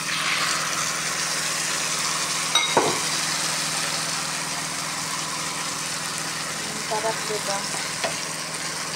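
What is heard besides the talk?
octopus and shrimp frying with garlic in a pan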